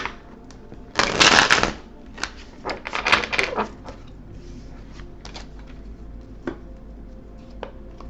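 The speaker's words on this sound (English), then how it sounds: "One more shuffle, please." A deck of tarot cards is shuffled in a couple of loud, close riffling bursts, followed by scattered lighter card taps and handling sounds.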